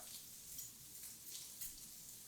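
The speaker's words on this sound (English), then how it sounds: "Give it another second there to kind of just sizzle away." Steady hissing sizzle of chorizo frying in a hot pan, constant and close, with no talking.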